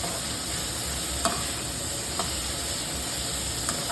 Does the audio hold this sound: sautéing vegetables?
yes